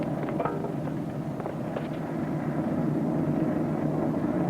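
A steady propeller-plane drone fills the clip, a constant low engine roar with no voices, as F6F Hellcat fighter aircraft fly past at moderate distance.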